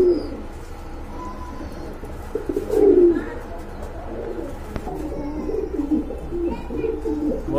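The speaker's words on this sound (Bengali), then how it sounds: "এখানে এক জোড়া লক্ষা কবুতর রয়েছে" A pair of Lakha pigeons coo in repeated low, throaty phrases at close range, with a louder swell around the middle, over a steady background hum.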